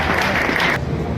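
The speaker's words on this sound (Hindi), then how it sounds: "ताली से स्वागत है यहाँ सभी" Audience clapping in welcome at a Vijay Diwas tribute ceremony in Julana honouring Kargil soldiers, a dense, steady burst of applause that drops off toward the end.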